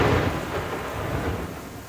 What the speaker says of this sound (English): Heavy rain and storms pummeling parts of metro Atlanta.